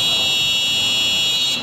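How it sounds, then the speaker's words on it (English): A Mircom fire alarm system buzzer sounds as a steady, loud, continuous electronic tone, holding unbroken for the whole short stretch and dropping slightly at the very end. "So the first demonstration we want to do here is activate a fire alarm."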